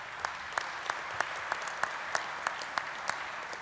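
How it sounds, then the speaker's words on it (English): Audience applauding in a hall at a union conference, a dense wash of clapping with a few regular louder claps standing out near the microphone. "Please give them a round of applause because they're in the hall."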